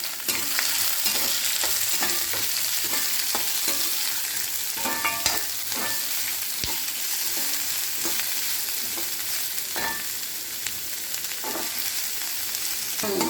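Onions, garlic and ginger sautéing in a pan for a tomato kurma, steady loud sizzling with regular sharp scrapes and taps of a spoon against the pan, no speech.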